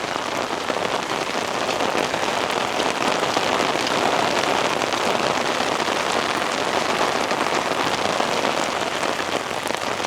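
Steady summer rain pours down across a campus in Jiaoqing, China, a dense, even hiss of drops on surfaces that holds unbroken and fairly loud throughout, with no voices.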